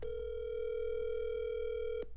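A single long, steady telephone ringback tone sounds during an unanswered phone call and holds unbroken for about two seconds before cutting off, with no voices.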